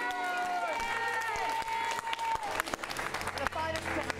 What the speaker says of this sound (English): Once more, Nick, I want to give a gigantic, huge round of applause, of course.